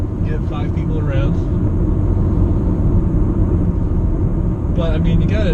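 Engine and road rumble from a 2005 Chevrolet Cobalt economy car being driven hard through gear changes, with a slipping clutch, a steady loud low drone throughout with someone talking over it.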